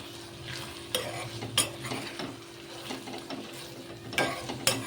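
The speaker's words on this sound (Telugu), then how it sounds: "ఇవన్నీ నీట్గా కలుపుకుందామండి" Ivy gourd curry is stirred in a pan after coriander powder, masala and a pinch of garam masala go in, over a yogurt base. A low simmering hiss runs underneath, with several sharper scraping clinks from the spoon close by.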